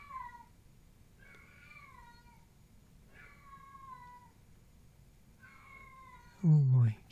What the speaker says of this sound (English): my kitty is very insistent. I don't know if you can hear that. Really good yowl up.